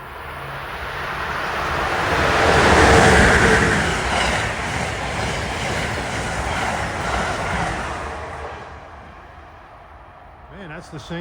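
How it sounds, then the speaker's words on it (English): Amtrak's Pennsylvanian, train 42 running from Pittsburgh to New York, rolls into Princeton Junction station as a loud, swelling rumble that peaks and then slowly recedes, with a faint voice near the end. "here comes 42, the Pennsylvania from Pittsburgh to New York."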